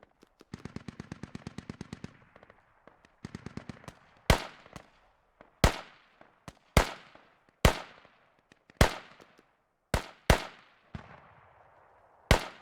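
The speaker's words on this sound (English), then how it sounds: "Triggers audio with his gunshots." Gunfire in the tactical shooter Squad: a rapid automatic burst at the start, a shorter burst, then a string of loud, sharp single shots with ringing decay, spaced about a second apart, with no talking.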